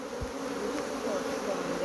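Honey bees hum steadily at a hive in Guyana, a close, continuous buzz with no voices.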